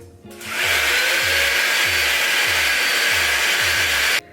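A $45 Dyson Airwrap dupe hair dryer from AliExpress switches on with a click and settles into a loud, steady blowing whir, joined by a repeating low thump about twice a second until it cuts off abruptly.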